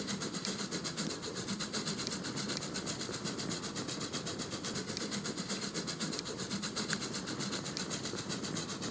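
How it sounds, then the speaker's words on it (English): Steady rolling rumble of a steam-era freight train in the Transport Fever 2 video game, with continuous rail clatter and engine noise at an even level throughout, no talking. "start replacing some of the aging steam engines on some of their freight trains"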